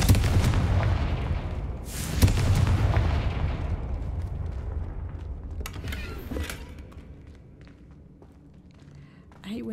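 A Confringo fire spell explodes in Hogwarts Legacy: loud rumbling blasts and crackling booms, with a sharp hit near two seconds, fading to a low roar with scattered thuds. A voice talks over part of it.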